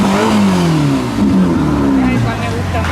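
A car engine revs loudly and steadily at a St. Patrick's Day parade in Fort Lauderdale, its pitch climbing and falling over about three seconds, with people talking over it.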